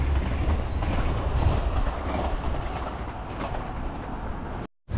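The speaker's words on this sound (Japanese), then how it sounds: "我々が乗るはずだった電車" A train rolls past near a mountain trailhead town in early December, a loud, continuous rumble of rail cars with wheel clatter that fills the clip before a brief cut to silence near the end.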